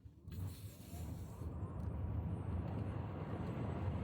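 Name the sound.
Tesla Model S Plaid launching, hard electric acceleration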